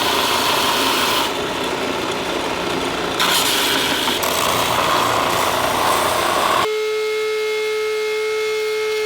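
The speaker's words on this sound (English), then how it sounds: "we're going to be shaping the holster into its final shape using the belt sander here" A belt sander whirs loudly as a custom gun holster is shaped against it, with pressure changes shifting the grinding tone before it cuts off into a steady machine hum.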